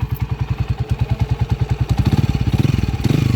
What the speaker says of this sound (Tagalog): Ito yung motor niya.